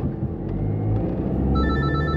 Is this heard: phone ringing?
yes